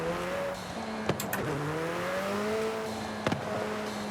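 A car engine revs in the Forza Horizon 5 racing game, a steady close drone whose pitch climbs and dips, with a few sharp clicks over it.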